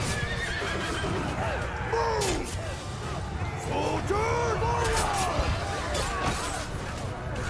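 Horses whinnying and neighing amid clopping hooves in the medieval battle game Mount & Blade 2 Bannerlord, several calls over a dense background of battle noise and murmuring voices.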